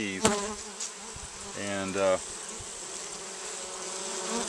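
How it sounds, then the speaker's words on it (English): A steady, dense hum of honey bees swarming around a full hive box in an apiary fills the whole stretch, with a brief spoken word and a short voice passage rising over the continuous buzzing. "this box has been full of bees"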